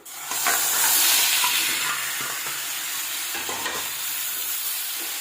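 Pasta tossed into hot oil for masala pasta, giving a sudden loud sizzle that settles into a steady hiss with light stirring scrapes, close by and with no talking.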